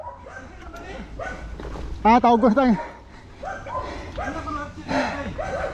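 Dog barking in a rapid burst of several yips near the middle, fairly close and loud, set among ongoing conversation in Cebuano by people walking outdoors.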